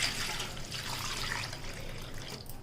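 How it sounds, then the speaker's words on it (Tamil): Water runs from a tap onto a lump of tamarind in a kitchen, set to soak for rasam, a steady close splashing pour lasting throughout with no talk. "தண்ணி ஊற்றி ஊற வச்சுக்கலாம்."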